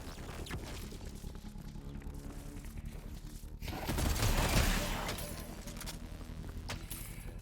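Video game gunfire in a rapid, continuous burst that swells loud around the middle and stays dense, with a voice talking over parts of it.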